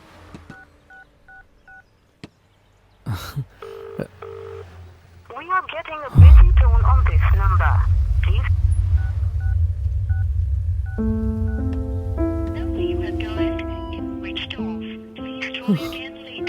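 Several quick touch-tone beeps from a phone being dialed sound faintly at the start, followed by a voice and then a loud, sustained low rumble with a musical score over it.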